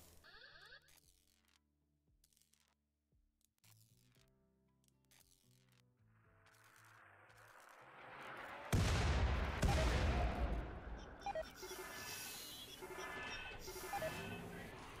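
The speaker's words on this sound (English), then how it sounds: "here comes the high explosive barrage" A high-explosive artillery barrage erupts in a video game, opening with scattered mechanical clicks before a massive sudden blast at about nine seconds and a continuing roar of rumbling impacts and crackling explosions.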